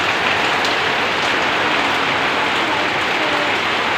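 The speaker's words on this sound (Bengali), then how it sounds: "তো দেখ বৃষ্টিটা দেখতে পাচ্ছ কত পরিমাণে জল পড়ছে" Heavy rain pours down steadily at night outside a home with a veranda, a dense, continuous roar of drops striking surfaces, loud and close throughout with no voices.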